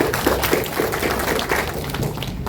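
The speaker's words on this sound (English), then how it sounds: "Round of applause" Applause from an audience at a regional council induction ceremony in Hardap, Namibia, a dense, steady patter of many hands clapping that continues through the whole short stretch.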